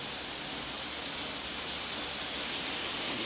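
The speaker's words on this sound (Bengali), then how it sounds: "দেখতেই পাচ্ছ কতটা জোরে বৃষ্টি হচ্ছে।" Heavy morning rain pours in a steady, even roar with no break or voices. The sound is dense and continuous throughout.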